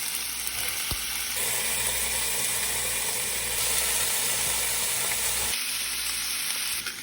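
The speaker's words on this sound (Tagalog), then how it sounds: "igisa na natin yung bawang dito sa gilid" Garlic sautés in rendered pork fat for pork adobo, a dense, steady, loud sizzle that runs without a break, with a faint clink near the start and no talking.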